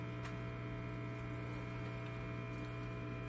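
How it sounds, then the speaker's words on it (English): A small water pump runs continuously, feeding a watering wand through tubing to water orchids, giving a steady mechanical hum with a faint liquid trickle and occasional light clicks. "I just connect the pump to this wand that I have connected, attached basically through tie gun tubing, and then I can just water like so"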